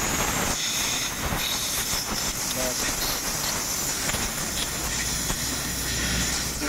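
Compressed air blasts through the holes of a carburetor during cleaning, making a loud, steady broadband hiss throughout with a few brief sputters, close to the microphone.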